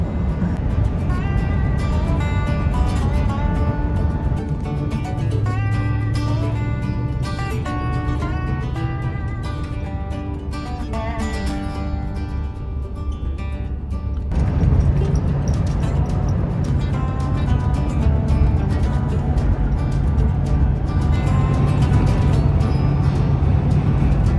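A car drives down a road across the Kansas plains, its steady engine and tyre rumble continuous beneath background music, with no pauses.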